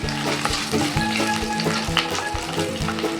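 Whole masala spices, including fennel and coriander seeds, fry in a pan for a chicken masala paste. They crackle and sizzle up close while a spoon scrapes and stirs in a regular rhythm.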